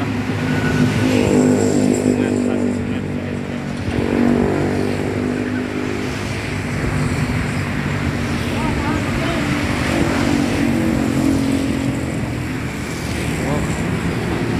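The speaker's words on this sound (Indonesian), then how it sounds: "Selanjutnya siap-siap diberangkatkan PO Haryanto Edelweiss" A PO Haryanto Edelweiss intercity bus pulls out of a busy terminal, a low engine rumble swelling and fading under wind noise and nearby chatter.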